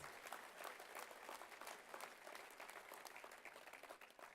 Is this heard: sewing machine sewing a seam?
no